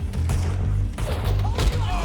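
Gunfire in Red Dead Redemption 2 during a shootout, a steady run of muffled shots and thuds packed closely together at constant loudness, with a voice talking over much of it.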